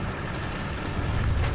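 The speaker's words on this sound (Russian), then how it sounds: "Странно, что я выстрелил ему в ствол орудия" A tank cannon fires in War Thunder, a loud, dense broadband blast with a rumbling low end that fills the short moment without pause, with no voices over it.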